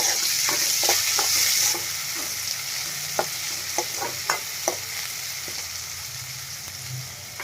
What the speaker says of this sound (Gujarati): હવે આપણે એમાં એક કેપ્સિકમ એડ કરશું, ઝીણું કાપેલું। મિક્સ કરી લેશું બધું।